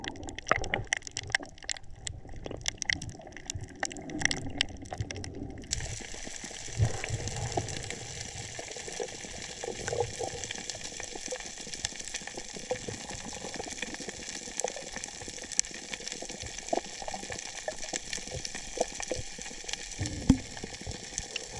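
Underwater water sounds during a shallow night dive while fishing for rabbitfish, a steady wash of bubbling and muffled churning with faint clicks, continuous throughout with no voices.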